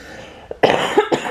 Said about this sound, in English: I apologize for coughing on you